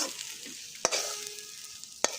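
Food frying in a pan with a steady sizzling hiss, interrupted by two sharp clinks of a utensil against the pan.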